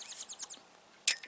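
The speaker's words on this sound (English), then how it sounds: "Listen to the birds" Small birds chirp outdoors along a hillside hiking trail, a few quick high tweets in a short run, then a brief louder burst near the end, fairly faint with no talking.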